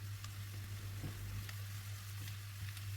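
Peppers frying in a pan with onions and garlic, a soft steady sizzle held throughout over a constant low hum, fairly faint, with no talking.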